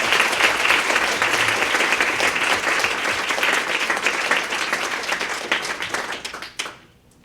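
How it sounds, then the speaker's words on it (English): A large audience applauds after a collaboration conference session talk. The clapping is sustained and loud, holds steady for several seconds, then fades quickly into near silence. "Let's give a big round of applause for Nigel."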